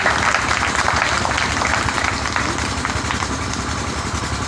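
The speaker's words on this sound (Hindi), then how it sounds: "तालियां बजाकर एक बार मेरी हिम्मत बढ़ाइए।" Audience clapping at a devotional Devi Bhagwat Katha gathering in India, a dense sustained roar of applause mixed with loud background rumble throughout.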